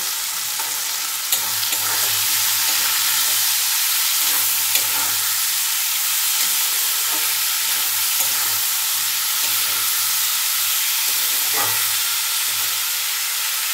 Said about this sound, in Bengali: পেঁয়াজ আদা রসুন ভাজা হয়ে গেছে